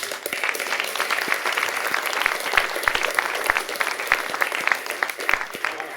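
Sustained applause from a theatre audience at a performance of Baâda le malade imaginaire, dense and steady clapping throughout with a few sharper individual claps standing out nearby.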